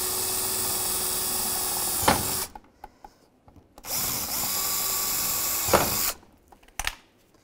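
A power drill bores rivet holes in the front bumper of a 2015-2020 Cadillac Escalade, running in two sustained, close, steady whining bursts of about two seconds each, separated by short pauses with faint clunks and handling noise.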